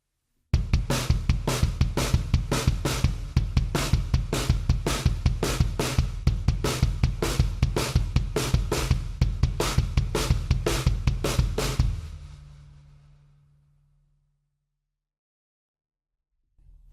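A drum fill with the hand pattern moved to the feet, leading with the right, a fast steady run of loud close hits for about eleven seconds that ends with a ringing decay into silence.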